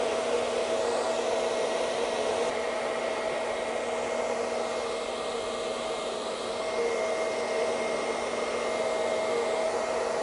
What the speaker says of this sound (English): So here we can see how the hairdryer is directing the air from roots all the way through to the tips